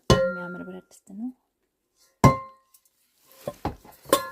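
Cast iron pots and pans knock and clink together, a few sharp metallic hits separated by silence, loud and close, with a quick cluster of clatters near the end.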